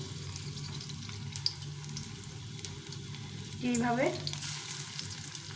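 Fish-oil fritters fry in a pan with a soft, steady sizzle, joined by a brief clatter and a short spoken word near the end.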